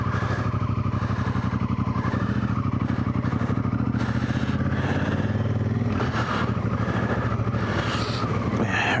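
A Honda Africa Twin CRF1000 motorcycle runs steadily while riding, a loud continuous engine drone with rapid pulsing and some shifts in pitch, close to the microphone.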